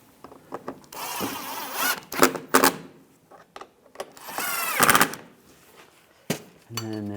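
Screws being driven into a headlight assembly on a 2008-2017 Buick Enclave, with bursts of ratcheting and rasping from a hand tool, a few metallic clicks, and a short voice at the end.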